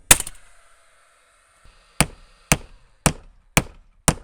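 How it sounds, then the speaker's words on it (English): Sharp hammer blows drive nails through a timber batten into a sill support during a beach house renovation, five loud evenly spaced strikes after a first hit, with no talk. "And I'm actually nailing through the sill support itself."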